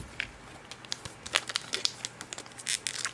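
Quiet, crinkly tearing of tape being pulled off packaging in short, uneven bursts over about three seconds.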